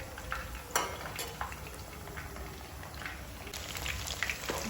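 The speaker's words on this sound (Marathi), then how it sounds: "ह्यांना आपण तळून घेणार आहे" Boneless chicken 65 pieces frying in hot oil, a steady dense crackle with scattered sharper pops and a few stirring clinks, close and continuous without talk.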